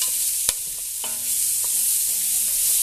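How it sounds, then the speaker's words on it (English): Onions sizzling and being stirred in hot bacon fat with garlic, a steady bright frying hiss broken by a few sharp spoon scrapes and clinks against the pan. "now we're going to add our onions and mix it with the bacon fat and the garlic"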